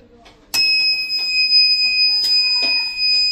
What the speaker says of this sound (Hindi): बैटरी लगातार बीप दे रही है